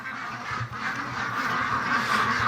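Free-range ducks quacking in a duck pen, a close, continuous chorus of overlapping nasal calls with no speech.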